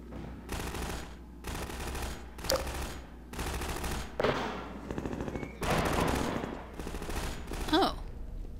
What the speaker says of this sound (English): let's go find whoever's shooting.